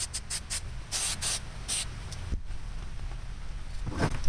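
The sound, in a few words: spray paint sprayed on a prop tombstone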